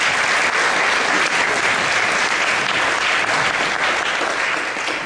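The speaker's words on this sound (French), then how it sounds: "j'aimerais qu'on applaudisse encore pour tout ça" Loud, steady applause from a large audience at a conference on nasal profiloplasty with hyaluronic acid, a dense, continuous wash of clapping that holds at an even level throughout without pause.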